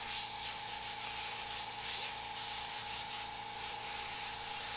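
An airbrush sprays paint across a stencil with a loose flood stroke, producing a steady close hiss with a faint underlying hum and small pulses in intensity throughout.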